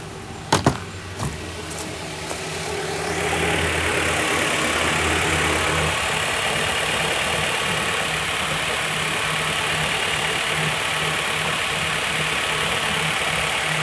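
A Honda Prelude with 113k miles idles after a few sharp clicks and a brief start-up surge, then settles into a steady, even engine hum with constant broadband hiss, close and moderately loud.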